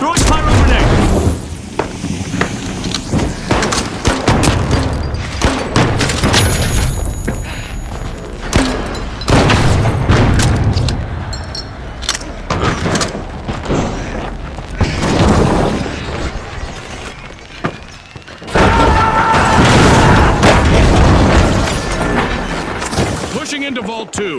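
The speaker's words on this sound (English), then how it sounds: "Sending a frag! Throwing pyro grenade!" Frag and pyro grenades go off in The Finals amid a loud, chaotic game mix of repeated booms and bursts of gunfire, with a big blast late on, while players talk over the action.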